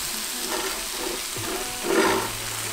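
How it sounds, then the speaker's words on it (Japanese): Eggplant fries in hot oil in a pan with a steady close sizzle and crackle, surging louder briefly before settling back. "油入れて で焼き目をつけていきます"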